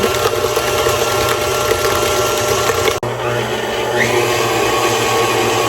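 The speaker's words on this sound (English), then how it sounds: "We're going to spin it through. Make sure everything's well combined." An electric mixer whirs steadily while blending cinnamon honey butter, with a loud, constant motor drone that briefly dips around the middle before continuing at the same pitch.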